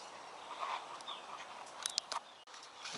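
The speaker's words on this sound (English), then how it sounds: "the birds won't be too loud." Small birds sing outdoors near a camp kitchen setup, with faint scattered chirps and brief high calls over a steady background hiss of open air.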